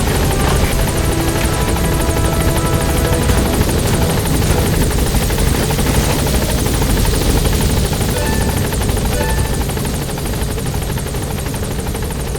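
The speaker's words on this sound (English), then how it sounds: "Support helicopter has arrived." A support helicopter's rotor in the video game Metal Gear Solid 5 thrums steadily and loudly throughout, a dense continuous roar with buzzing overtones, no voices over it.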